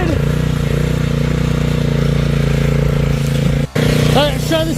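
Homemade drift trike engine running on a test drive, a loud, close motor drone with steady harmonics that drops out briefly near the end, then returns with rising revs.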